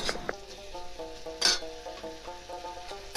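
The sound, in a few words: mustard paste frying in pan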